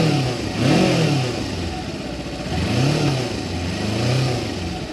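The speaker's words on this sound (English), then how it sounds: "Rev it a bit." A Kawasaki 300cc twin-cylinder motorcycle engine revs up and down several times, the pitch rising and falling in swells over a steady idle, close by.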